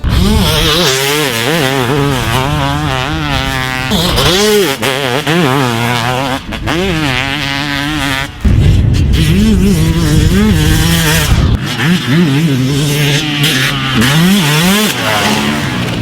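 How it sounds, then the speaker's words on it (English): Suzuki RM250 two-stroke motocross bike built for the 2018 Motocross of Nations, its engine revving hard and loud with rapid blips and sustained high-pitched wails, rising and falling throughout. "This episode we have Travis Pastrana's 2018 Motocross Nations Suzuki RM250."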